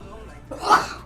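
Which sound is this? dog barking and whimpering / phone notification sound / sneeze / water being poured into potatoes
sneeze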